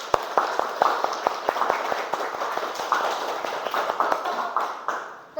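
A class of children claps out a rhythmic salute pattern in a school lesson, with sharp, regularly spaced claps forming a patterned beat that is steady and close, then breaks off at the end.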